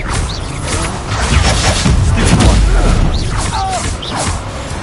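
A Confringo fire-blast spell goes off in Hogwarts Legacy with a loud, rumbling explosive burst and clattering, mechanical crackle that swells midway and then tails off.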